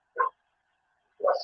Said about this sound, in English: I apologise for the barking in the background.